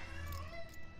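A cat in the survival video game Sheltered gives a short, faint meow against a quiet background.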